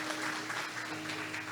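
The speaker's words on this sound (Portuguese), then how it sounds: "E aplauda ao Senhor, irmãos, bem forte." A church congregation claps loudly and steadily in continuous applause, dense and sustained throughout the short stretch.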